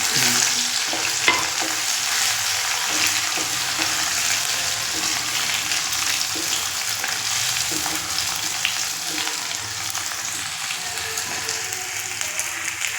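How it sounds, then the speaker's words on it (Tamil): Crushed ginger and garlic sauté in hot oil in a pan, giving a dense, steady sizzle with faint stirring scrapes underneath, close and continuous for the whole stretch. "நல்லா வதக்கிட்டு நல்லா பச்சை வாசனை பச்சை வாசனை போகிற வரைக்கும் நல்லா வதக்கிட்டு"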